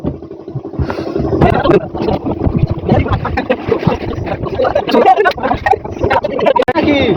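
A boat with a running engine moves along a river in the Sundarbans forest, its steady motor hum and water noise carrying throughout while several people talk and call out nearby.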